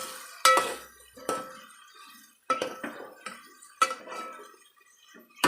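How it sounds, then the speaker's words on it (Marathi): Spiced soybean sandge being stirred in a pan with tomato and onion, with a series of separate metallic scrapes and clinks of a spoon against the pan, irregularly spaced and close, with no talking. "यामध्ये आता मी तोडून ठेवलेले सोयाबीनचे सांडगे मीठ मसाला लावून ते टाकून देतोय आणि याला चांगलं खालीवर करतो"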